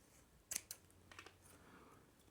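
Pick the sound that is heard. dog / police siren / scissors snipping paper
scissors snipping paper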